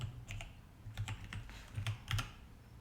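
Soft, close keystrokes tapped on a computer keyboard in irregular bursts, a few keys at a time with short pauses between, while a word is entered into Grid 3 communication software.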